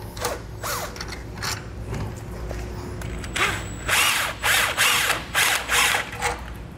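A power drill runs in several short whirring bursts while tightening bolts on a Fulton boat trailer jack mount, with quieter ratcheting and handling clicks before the bursts.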